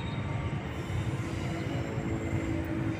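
KA Dharma Wangsa passenger train running past near Cikampek station, a steady, loud rumble of wheels and carriages with faint squealing tones, no voices.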